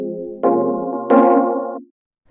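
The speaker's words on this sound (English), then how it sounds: "this is a more percussive kind of plucky patch" A dry synth pluck patch with the reverb switched off plays two sustained chords, each entering with a percussive attack and held briefly before a clean cutoff, with no trailing tail and no voices.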